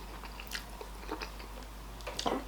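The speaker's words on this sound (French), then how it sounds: "comme d'habitude je déguste quand même mon plat" Someone close by bites and chews a spicy vegan tofu dish, giving a few faint, scattered soft crunches and mouth sounds against a quiet background hum, with no talking.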